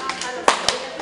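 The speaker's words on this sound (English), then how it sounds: "Okay, come on, tap and tap and tap and tap." Audience members at a mobile music museum show clap and tap along in rhythm, giving two distinct sharp hand claps about a fifth of a second apart over softer background sounds.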